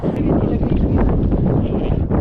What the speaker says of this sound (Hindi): हवा इतनी तेज है कि आप लोगों को जैं जैं सुनाई दे रही होगी